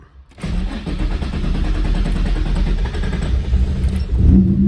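A turbocharged Nissan VQ35 engine with a hard-starting fault catches after cranking and settles into a loud, steady rough idle close by, with a slight rise at the end.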